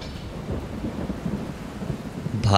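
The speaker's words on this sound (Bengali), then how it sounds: "সন্ধ্যা থেকে যে পরিমাণে ঝড় বৃষ্টি শুরু হয়েছে" Rain pours steadily through a thunderstorm, with low rumbling thunder rolling underneath and a sharper crack near the end.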